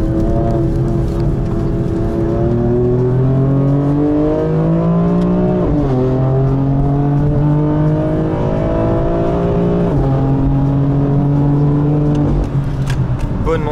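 A GT4 race car drives at the Pau Grand Prix street circuit, its engine loud and continuous, climbing through the revs and dropping sharply at two gear changes.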